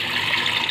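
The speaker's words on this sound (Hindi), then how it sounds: "अब इसमें हम भरते हैं पानी। चल रहे पानी भर रहे हैं" Water pours from a tap into a small cooking pot, a brief steady gushing rush close to the microphone.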